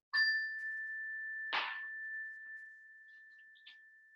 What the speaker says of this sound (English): I like to ring a bell as a gentle reminder to come to this moment right now